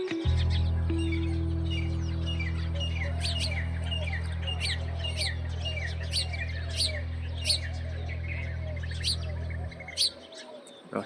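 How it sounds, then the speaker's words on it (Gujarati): Birds chirp and sing outdoors in a village setting, with repeated bright calls scattered through the clip over a steady low hum that stops near the end. "પક્ષી બોલે છે મસ્ત મજાના."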